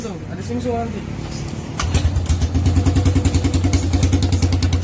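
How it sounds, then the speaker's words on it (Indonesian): A Suzuki Supra Fit motorcycle engine cranks and catches after a few quiet moments, then settles into a loud, steady, rapidly pulsing idle, heard close up. "Oke, waktunya kita tes hidupkan dulu."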